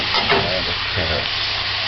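Cabbage and carrots stir-fry in a hot pan on a stovetop, a steady loud sizzle close by with scraping stirring sounds passing through it and no talking.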